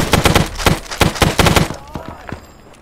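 Rapid bursts of close, loud rifle fire in the Vietnam-era Arma 3 game, several volleys in quick succession that thin out into scattered shots and echoing tails.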